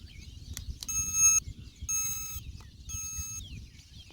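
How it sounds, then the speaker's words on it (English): A Bulbhead Owl Alert ultrasonic pest repeller beeps three times after being switched on, each beep a clear, steady electronic tone about half a second long, evenly spaced over a low background rumble. "when you turn it on, you're going to hear it beep a number of times"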